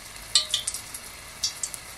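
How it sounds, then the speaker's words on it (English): A scotch bonnet pepper sizzles in hot frying oil, giving soft crackling and a few sharp pops over a faint steady hiss, close up with no talking. "I'm gonna add a scotch bonnet pepper just to see how hot my oil is"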